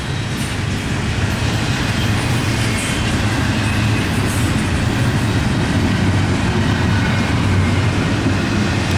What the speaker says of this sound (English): look at this train, it's huge